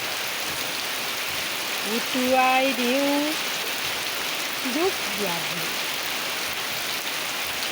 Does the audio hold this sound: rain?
yes